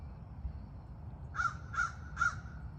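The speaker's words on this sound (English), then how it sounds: "I love crows." A crow caws three times in an evenly spaced series, harsh and clear at moderate distance, over a quiet outdoor background.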